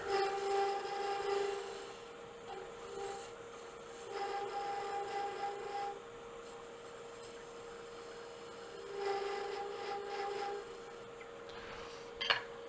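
A spindle gouge cuts a taper on a small wood lathe finial piece, giving a faint, steady scraping hiss over the motor's tonal hum, swelling and easing in several passes with a sharp tick near the end.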